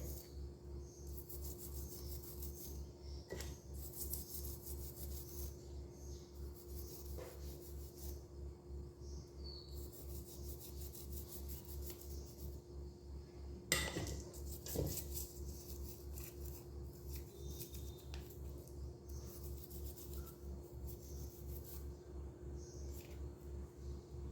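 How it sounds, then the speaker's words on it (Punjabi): Steady scrubbing of silver jewelry with a brush in water: continuous soft rasping friction over a constant low hum, with a couple of brief louder knocks near the middle. "ਇੱਕ ਬ੍ਰਸ਼ ਲੈ ਲੈਣਾ ਤੇ ਉਹਦੀ ਮਦਦ ਦੇ ਨਾਲ ਆਪਾਂ ਇਹਨੂੰ ਇਦਾਂ ਦਰਗੜ ਰਗੜ ਦਾਂਗੇ"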